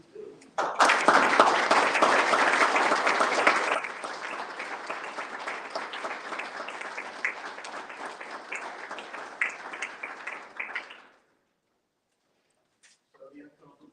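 A crowd breaks into loud, sustained applause that gradually thins and fades out after about ten seconds, followed by near silence.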